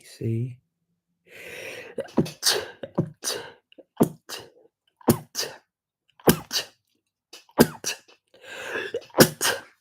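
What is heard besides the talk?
sneeze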